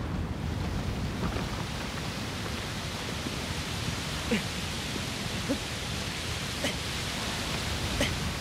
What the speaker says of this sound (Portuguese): Uma cachoeira enorme.